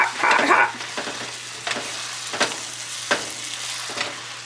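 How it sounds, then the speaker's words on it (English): Hot jollof rice sauce sizzles in a pot while a spoon stirs it. A louder bubbling splash at the start gives way to a steady fry with regular scraping strokes against the pot, and no voices. "And we're just gonna keep stirring it."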